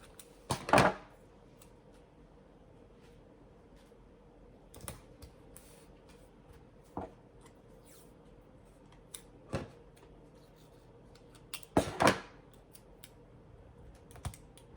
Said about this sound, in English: you want to make sure that you tape down